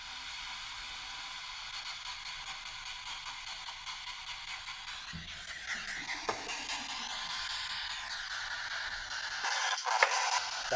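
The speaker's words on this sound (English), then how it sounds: "a device that scans for radio frequencies at a relatively fast pace." A spirit box radio scanner sweeps rapidly through stations, giving a steady hiss of static with brief ticking jumps and short bursts of broadcast fragments, fairly quiet and heard alone in a former convict hospital building.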